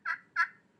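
A turkey call imitates a hen turkey with two short, bright yelps in quick succession, close and clear against near silence.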